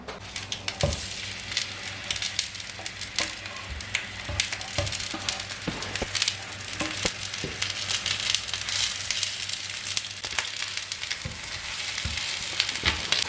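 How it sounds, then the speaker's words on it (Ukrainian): Chopped onion and carrot fry in a pan, a steady close sizzle with scattered crackles and pops running throughout, no voices. "Обсмажимо цибулю та моркву."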